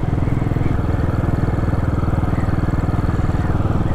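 A Royal Enfield-style single-cylinder motorcycle engine runs steadily at close range, a loud, even thumping pulse that carries through the whole stretch without pause.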